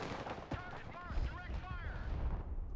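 Booming artillery fire in the real-time strategy video game Broken Arrow, with several heavy distant thuds and rumbles over a steady battle background, accompanied by whistling tones and a faint voice.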